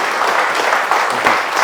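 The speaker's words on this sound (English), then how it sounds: "Y'all give him a round of applause." Audience applause at a taxes and insurance panel, a dense, steady wash of clapping hands filling the room throughout.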